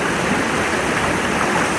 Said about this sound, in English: where there's a waterfall in the cave to bring down more water